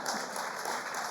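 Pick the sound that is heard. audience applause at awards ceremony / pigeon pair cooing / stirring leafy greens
audience applause at awards ceremony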